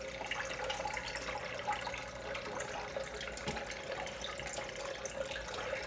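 Water trickling and circulating steadily through the tubes of a home hydroponic growing system, a continuous gentle splashing flow without pauses.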